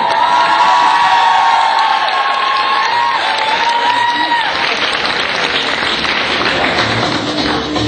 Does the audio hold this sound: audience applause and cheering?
yes